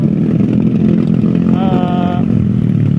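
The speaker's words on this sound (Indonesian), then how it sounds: "di depan motor si Nova Made berbet" A Honda Nova motorcycle engine runs rough and sputters in cold mountain air on a touring ride, with a loud, close, continuous engine rumble and a short whining tone partway through.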